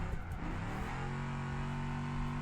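A car engine in a racing video game holds a steady droning note while drifting through a corner, loud and continuous with a slight rise in revs.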